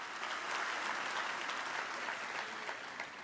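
A church congregation at a Sunday service applauds throughout, a full, steady wash of many hands clapping at moderate distance that eases off slightly toward the end, with no speech over it.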